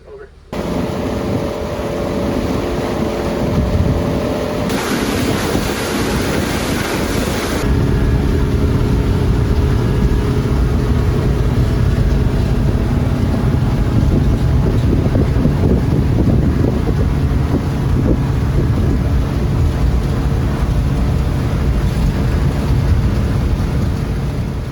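A new Ranger Tug boat's engine drones steadily at break-in cruising speed on choppy water, with constant wind buffeting the microphone throughout.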